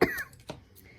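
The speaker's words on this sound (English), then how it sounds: "I've had this allergy cough for months." Allergy cough, a short sharp burst close up followed by a smaller second cough about half a second later, faint and brief.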